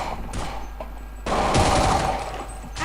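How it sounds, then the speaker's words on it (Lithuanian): Rapid gunfire in a Counter-Strike multiplayer match, a dense burst of shots starting just past a second in and running loud to the end, with quieter game noise before it. "šaudo vyčko"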